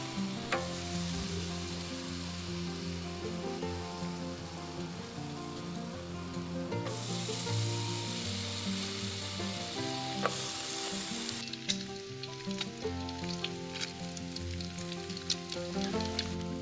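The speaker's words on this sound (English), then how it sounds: "I got the old pan over some coals here. I think I've got it. Yeah, it's hot enough. I'm gonna put some bacon in there right now" Bacon sizzles and fries steadily in a hot pan set over campfire coals, a loud continuous crackle and hiss with scattered sharp pops, close by and without voices.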